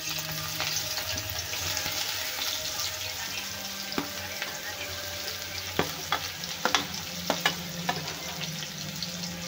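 Chopped onion sizzles steadily in a pan being fried for a dried bombil chutney, with sharp clicks of a spoon stirring against the pan growing more frequent toward the end.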